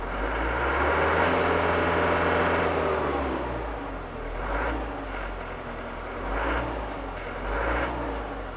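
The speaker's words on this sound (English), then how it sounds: "you press this button and it immediately goes full throttle as long as you hold it." Yanmar YT359 compact tractor engine held at full throttle, a loud steady drone close by that rises briefly early on, then swells and eases in a few waves, with no talk.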